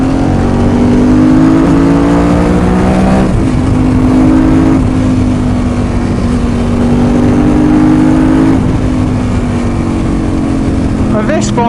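Motorbike riding on a road, its engine drone loud and continuous with pitch rising and falling through gear changes, over steady wind rush, and a rider speaking over it.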